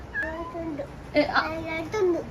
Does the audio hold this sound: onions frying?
no